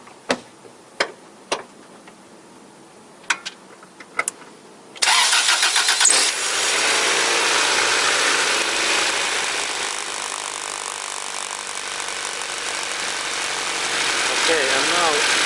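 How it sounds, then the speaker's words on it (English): Honda Civic, 1991–2004 model, with a new alternator belt: a few clicks and taps, then the engine cranks and catches, and it settles into a steady idle, close up and loud. "I go to start the engine, and let's look that what is result, that how belt works"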